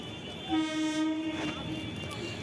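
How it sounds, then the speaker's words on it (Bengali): A train pulls into a station platform, its horn sounding a sustained blaring tone at close range for about a second, with rumbling wheels and station ambience continuing underneath. "ট্রেনের আওয়াজ পাওয়া যাচ্ছে"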